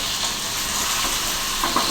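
Potato fry sizzling steadily in a pan with a pinch of turmeric, a close, continuous hiss of frying with faint stirring scrapes and no talk.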